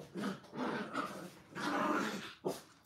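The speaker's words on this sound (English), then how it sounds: "Do you hear my dogs?" Several pet dogs growl and bark close by indoors in rough, uneven bursts, with a sharper yip near the end.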